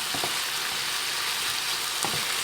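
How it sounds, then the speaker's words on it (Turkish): A mushroom and mixed vegetable fry sizzles steadily in a pan, a constant hiss with a few light stirring scrapes. "Bir karıştıracağım ve kapatacağım artık ateşi."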